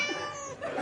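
A cat gives a single drawn-out, close and loud meow with a rising, wavering pitch, heard on its own in an audio comedy.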